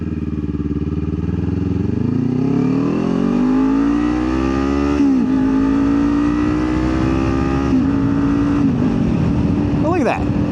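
A Kawasaki Ninja 400 motorcycle accelerates hard from standstill to about 50, its engine note climbing steadily through several upshifts, loud and close throughout.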